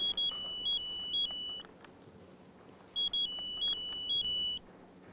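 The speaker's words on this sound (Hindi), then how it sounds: "फोन है" A electronic phone ringtone plays a repeating melodic beep pattern, pauses briefly, then rings again, fairly loud and nearby.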